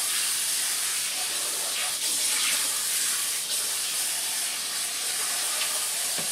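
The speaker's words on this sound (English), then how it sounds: "Let me rinse this bowl out right quick" Tap water running hard into a bowl being rinsed in a home kitchen, a steady loud hissing splash that continues without a break.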